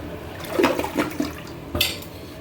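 Toilet flushing during a sandpaper flush test, a short watery rush with a couple of gurgling surges and a brief splash near the end, close and fairly quiet with no voices.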